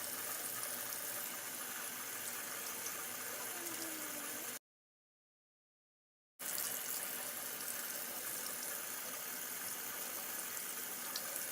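Tap water runs steadily into a sink while makeup brushes are washed with regular hand soap, a constant close hiss that stops abruptly for about two seconds midway, then resumes.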